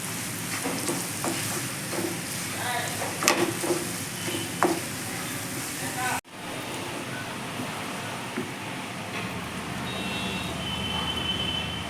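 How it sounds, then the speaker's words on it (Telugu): Ganjeraku chutney is stirred and mixed in a pan, giving a continuous sizzling hiss with scattered scraping clicks from the utensil, moderately loud and even, with a brief dropout midway before the frying noise resumes. "దీన్ని బాగా మిక్స్ చేసుకుందాం మిక్స్ చేసిన తర్వాత డిష్ అవుట్ చేసుకుందాం"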